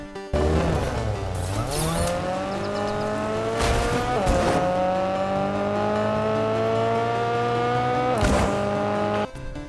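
A Porsche-like car in the video game Fortnite revs hard, its engine tone climbing through gear shifts with brief tire squeals between pulls, loud and close with no talk.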